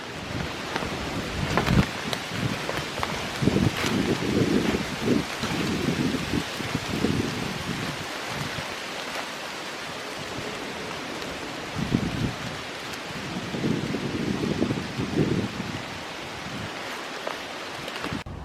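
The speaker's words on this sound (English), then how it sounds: "pretty windy." Strong wind buffets the microphone on a cold, foggy November morning hike at Iroquois Park, roaring in rough, uneven gusts throughout with no voices.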